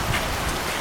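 Torrential rain downpour drumming densely and loudly on surfaces, a continuous close hiss with no voices.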